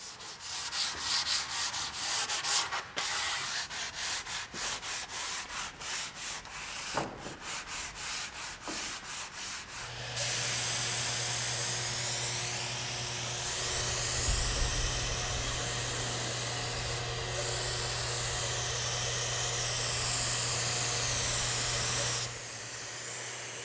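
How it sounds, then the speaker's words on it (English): Rhythmic rubbing strokes of sandpaper on primed wood crown molding, then a longer stretch of steady hissing power sanding with a constant mechanical hum. "I just finished sanding these."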